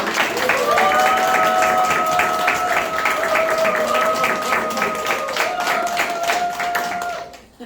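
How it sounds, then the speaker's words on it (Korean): An audience at a gospel training school lecture claps loudly and steadily while a sustained tone hums along, the applause tapering off abruptly at the end. "박수 주세요"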